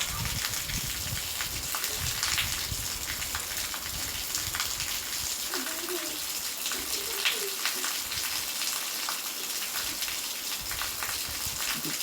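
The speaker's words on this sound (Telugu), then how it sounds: "గాలి వాన అతి తీవ్రంగా ఉందండి ఇక్కడ" Heavy wind and rain from cyclone Ditwah make a dense, constant roaring hiss that stays loud and unbroken throughout, with a few faint voices in the background.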